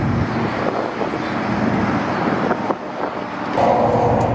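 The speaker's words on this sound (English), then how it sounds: "we're gonna try the two-step launch control and no lift shifting" A Ford Mustang engine, Cobra or New Edge, revs on two-step launch control, a loud sustained rumble and drone outdoors with wind buffeting the microphone and a brief rise near the end.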